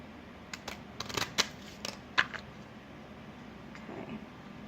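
A deck of tarot cards being shuffled by hand, a string of soft papery riffles and flicks in short bursts, close and fairly quiet, with no talking.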